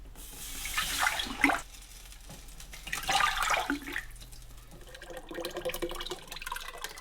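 Homemade BBQ sauce with butter on top, poured from one pot to another with a measuring cup, making faint splashing and trickling liquid sounds in several uneven pours.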